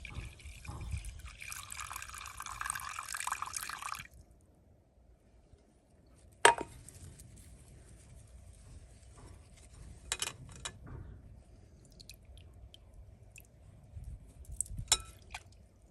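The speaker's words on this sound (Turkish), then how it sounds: "İlk olarak hazırladığım kahve suyunu posasından ayıracağım. Bunun için ince bir tülbent kullanıyorum." Brewed ground coffee strained through thin cheesecloth to separate the grounds: a trickling, splashing stream for about four seconds, then near quiet with a few scattered clicks and drips.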